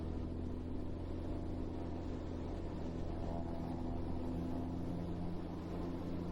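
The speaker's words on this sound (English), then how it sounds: "Throttle up to 1700 RPM." A Piper Malibu's piston engine held at 1700 RPM for a run-up with parking brake set, giving a steady, even drone with a constant low hum and no voices.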